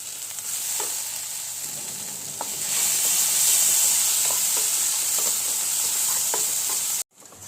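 Chicken curry spices with red chili powder fry and get stirred in a pan, a constant bright sizzle that swells midway, with occasional soft spoon scrapes before it cuts out abruptly near the end.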